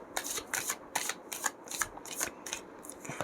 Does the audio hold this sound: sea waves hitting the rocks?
no